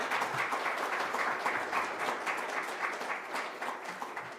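A Veterans Day ceremony audience gives a round of applause honoring a professor and his flag: dense, steady clapping from many hands, even and sustained for several seconds with no talking over it.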